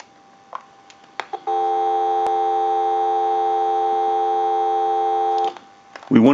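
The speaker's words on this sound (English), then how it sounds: "We'll give you some dial tone." A steady electronic dial tone from a telephone line analyzer during a General Electric cordless telephone repair, holding for about four seconds after a few short beeps, with a brief noisy burst at the end.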